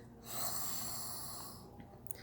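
A person imitates snoring, giving one long, breathy, rasping snore-like exhale with no talking.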